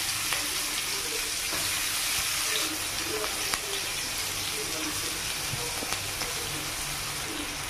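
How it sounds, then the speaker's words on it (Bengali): Onion added to hot oil with black cumin seeds sizzles in a pan, a steady close hiss with faint scattered pops and no voices. "এবার এখানে কালো জিরে ফোড়ন দিয়েছি, এখানে একটু পেঁয়াজ দিয়ে দিলাম।"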